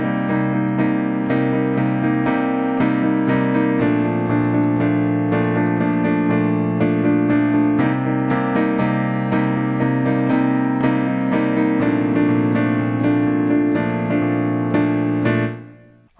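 Piano accompaniment for a pop song, played alone as a steady stream of rhythmic chords with a riff-like upper line, continuous and even in loudness before the final chord fades out.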